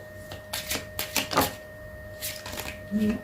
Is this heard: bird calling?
no